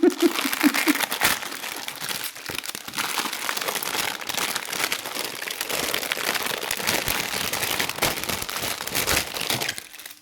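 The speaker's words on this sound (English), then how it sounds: "Apologies for the crinkling." Plastic packaging being crinkled and handled near the microphone, a continuous dense crackling rustle running throughout with no talk.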